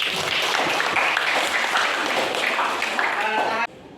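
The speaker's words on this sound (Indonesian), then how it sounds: "Oke, beri aplaus." Audience in a classroom applauding after a group presentation, a dense burst of clapping with voices mixed in, continuous for several seconds before cutting off abruptly.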